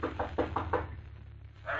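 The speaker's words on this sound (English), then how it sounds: "He stops and knocks on the door." Four quick knocks on a door, a 1948 radio drama sound effect, rap out in an even rhythm at close range before a pause and a fresh sound at the end.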